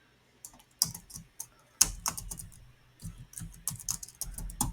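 Typing on a computer keyboard while writing code, close bursts of quick key clicks with short pauses between runs, no talking.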